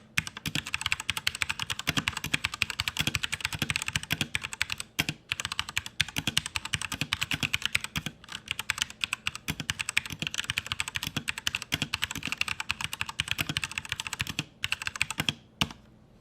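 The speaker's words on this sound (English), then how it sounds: "you can hear how the keyboard sounds" Continuous fast typing on a Redragon K617 FIZZ 60% mechanical keyboard, dense close keystroke clicks with steady rhythm and a few brief pauses, no voices.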